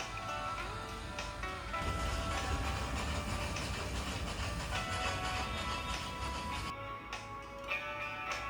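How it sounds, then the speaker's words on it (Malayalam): The Nilgiri Mountain Railway toy train on the Mettupalayam to Ooty line rumbles steadily with hissing and clattering, and the sound shifts and hollows as the train enters a tunnel partway through. "അങ്ങനെ ആദ്യത്തെ ടണലിനുള്ളിലേക്ക് ട്രെയിൻ കടന്നു."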